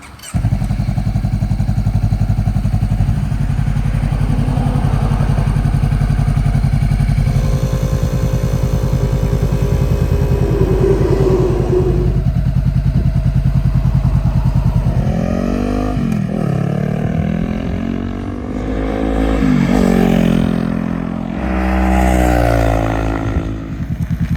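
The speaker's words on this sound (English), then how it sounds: "we're going to hop on it, take it up and down the road" A salvage motorcycle's engine roars close by, idling steadily at first, then revving up and down through gear changes as the bike pulls away and rides along the road.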